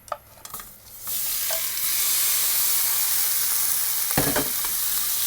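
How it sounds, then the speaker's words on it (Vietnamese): Shrimp drop into hot oil in a pan over high heat and start stir-frying. A few clatters come first, then a loud, steady sizzle builds and holds, with the scrape of stirring partway through. "Dầu nóng rồi mình sẽ cho hết cái phần tôm này vô mình xào."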